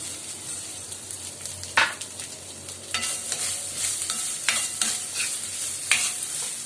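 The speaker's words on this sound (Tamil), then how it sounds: "நல்லா தேங்காயை கொஞ்சம் ட்ரையாக நல்லா வறுத்து எடுத்துடலாம்." Grated coconut dry-roasts in ghee along with cashews and raisins, with a spoon repeatedly scraping and stirring the pan over a soft continuous sizzle and several sharper clacks, no talking.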